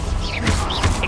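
A Confringo spell blast goes off in Hogwarts Legacy: two quick, loud, crashing bursts over a steady background rumble, with no voices.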